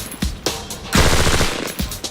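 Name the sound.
IAR automatic rifle firing support fire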